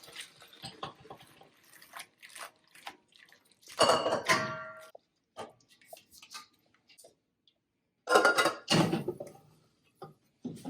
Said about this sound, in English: Our noodles are ready. Just gonna drain it.